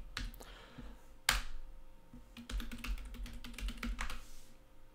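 Quick bursts of keystrokes on a computer keyboard as an install command is typed on Kali Linux, with uneven clicks and a sharper tap near the start, close and fairly quiet with no talk.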